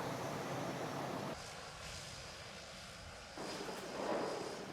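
Light aircraft without autopilot droning steadily in flight, a continuous broadband engine and wind roar that dips briefly in the middle and swells again, close and filling the cabin with no talk.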